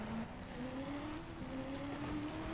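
A stolen car in Just Cause 2 accelerates away, its engine droning steadily and rising in pitch as it speeds off, loud and continuous without talk.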